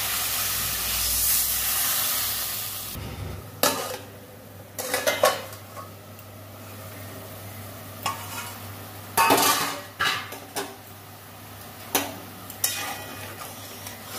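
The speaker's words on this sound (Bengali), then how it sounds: "জল দিয়ে দিচ্ছি" Water poured into a pan of cooking fish curry: a rushing splash and sizzle at first, then scattered clinks of utensils against the pan and brief bursts of stirring.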